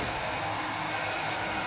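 A hair dryer blows on freshly applied decorative plaster, a steady, close whooshing hiss of the motor and airflow that holds level for under two seconds.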